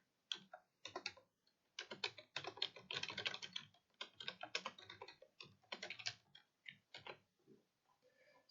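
Quiet typing on a computer keyboard comes in irregular bursts of rapid clicks with short pauses between, close and alone.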